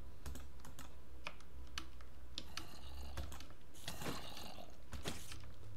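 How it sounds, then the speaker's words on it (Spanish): Clattering keystrokes from a computer keyboard, irregular bursts of sharp clicks with a few quicker flurries, close and fairly quiet over a steady low hum. "el sonido de la tecla y clac, clac, clac"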